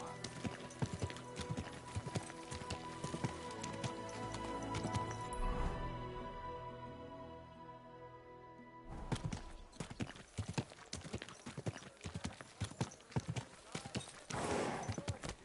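Horse hooves clip-clopping steadily while riding in a video game, a rhythmic trotting patter that pauses briefly midway then resumes, with an occasional whinny and game music underneath.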